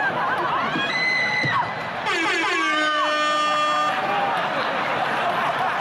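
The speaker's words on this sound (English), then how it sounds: "That air horn always pushes the joke through." An air horn blasting during a stand-up comedy show, a loud stuttering series of bright honks followed by a longer blare, set over a noisy crowd cheering and whooping.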